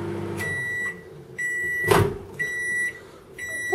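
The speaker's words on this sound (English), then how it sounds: "this is a new microwave" A new microwave oven hums steadily and beeps in repeated tones, broken by a sharp clunk near the middle.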